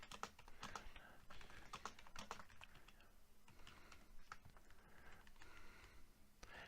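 Steady, fairly quiet typing on a computer keyboard, with quick irregular key clicks running throughout and no talking.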